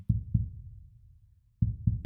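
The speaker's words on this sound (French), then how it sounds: "à mesure que les battements de votre cœur s'animent" Slow heartbeat for hypnosis relaxation: soft, low double thumps, a pair near the start and another near the end with a quiet gap between, clear and alone.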